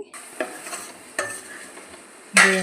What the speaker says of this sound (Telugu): ఇలా బాగా ఆయిల్లో వేపాలి